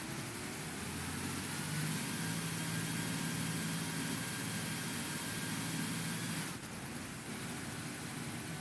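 A B7TL bus engine idles in OMSI 2 as a steady low drone with a faint whine on top, continuous and even, with a slight drop in level near the end.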